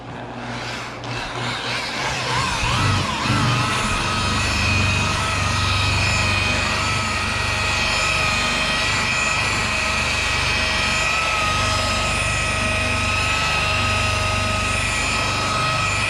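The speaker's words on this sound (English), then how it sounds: "Now you see I'm spinning the wheel this way so that I'm not pulling down on the body line." A spinning buffer wheel polishing the body of a Dodge Ram, a loud, sustained high whine that spins up at the start and then holds steady and close.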